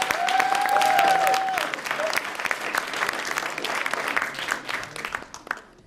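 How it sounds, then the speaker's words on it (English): An audience at an International Day of the Girl event applauds the organizers, a steady round of many hands clapping with a few whoops over the first seconds, then thinning toward the end. "So give them a round of applause"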